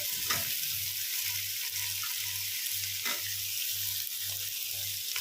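Potato, spinach, eggplant and radish fry in a pan for a dhaba-style vegetable dish with a steady, close sizzle and a soft, pulsing low hum beneath it, with no voices.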